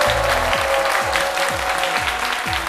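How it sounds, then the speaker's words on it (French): A studio audience on a midday TV talk show claps steadily together, a dense, even burst of applause filling the whole stretch with no talk over it. "Elle, c'est Madame Eida née Kwaku Aya Christine, que je vous demande d'applaudir"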